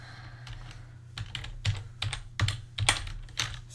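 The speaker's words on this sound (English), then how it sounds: "Just start typing." Typing on a computer keyboard while coding, with irregular bursts of close, crisp key clacks and heavier thumps of keys that grow louder toward the end, with no talk over them.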